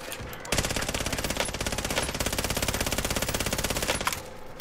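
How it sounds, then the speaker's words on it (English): Automatic gunfire in the video game Call of Duty: Warzone: a sustained, rapid stream of evenly spaced shots that runs for about three and a half seconds and then stops abruptly. "Getting shot from the right."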